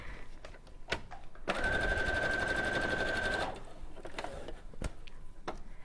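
A sewing machine stitches quilt fabric for a Christmas quilt in one steady, loud two-second run, starting and stopping abruptly, with scattered quieter handling clicks before and after.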